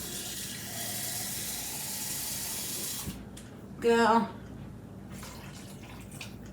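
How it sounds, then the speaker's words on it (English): Water runs in a steady rushing stream for about three seconds as it is poured into a pot of Southwest chicken soup, then cuts off, leaving a quiet kitchen with a brief spoken word. "I'm going to add a little bit more water because I want it a little bit looser."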